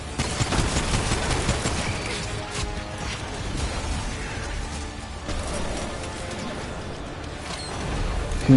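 Sustained gunfire from the video game Remnant 2 played on PS5, a dense barrage of rapid shots rolling on steadily at moderate loudness with a little voice mixed in.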